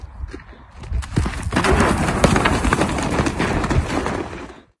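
A horse gallops nearby, its hooves drumming in a fast, loud, thudding rhythm that rises quickly and holds steady before cutting off, with no talk.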